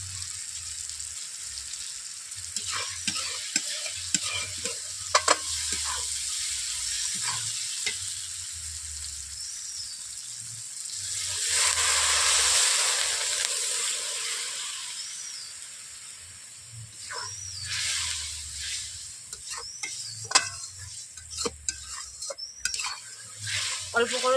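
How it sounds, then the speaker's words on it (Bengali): Spice masala cooks down in oil for a rohu fish jhal, a close sizzle broken by scraping stirs, swelling into a louder hissing burst midway before settling back to crackling and spoon scrapes, with no talking. "আমার মশলা থেকে তেল শুকিয়ে যাচ্ছে, তেল বেরিয়ে আসছে, আর মশলা কষানো হয়েই গেছে"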